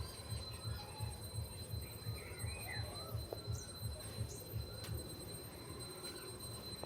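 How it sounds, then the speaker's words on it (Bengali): A train runs over a railway bridge on the way toward Howrah, giving a steady low rumble with regular rhythmic wheel clacks that carry on evenly throughout, with no voices. "এই একটা ব্রিজের উপর দিয়ে রেল চলছে"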